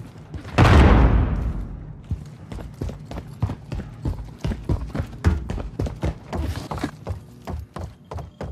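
A frag grenade blows up in Call of Duty: Modern Warfare with one loud, deep explosion and a decaying rumble, followed by rapid, rhythmic footsteps and scattered impacts of a fast-moving player.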